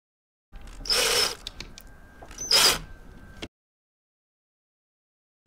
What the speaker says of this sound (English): come in on the other side of the board with a screwdriver or a drill and just slowly rotate until it's screwed into the nut